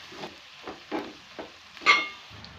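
A spoon stirs salt and coriander powder into a cluster bean curry in a pan, giving five soft, evenly spaced scraping strokes, close and fairly quiet, the last one slightly louder.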